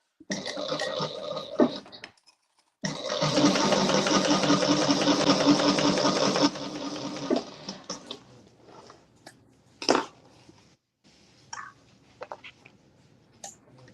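A sewing machine topstitching down both sides of polyester webbing runs in close, loud bursts, a short run, a pause, then a long steady stretch of rapid stitching, followed by scattered handling clicks and knocks.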